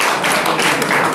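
An audience in an art presentation hall applauds, a dense steady wash of many hands clapping for the whole short stretch, close and fairly loud with no pauses.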